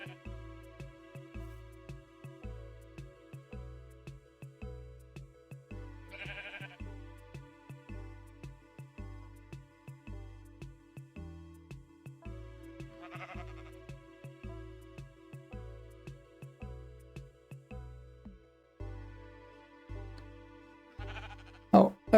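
Repeated sheep bleats from Minecraft, rising over a steady rhythmic game music loop, with a few brief higher squeaks between them and a sharp sound at the end.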